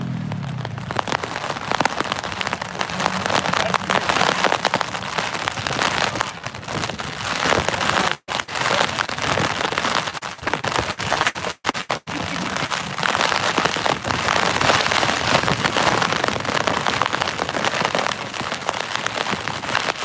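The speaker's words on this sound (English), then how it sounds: "Yeah, it's rain" Rain falls steadily and loudly in a dense, continuous hiss of drops striking surfaces, with two very brief dropouts partway through and no voices.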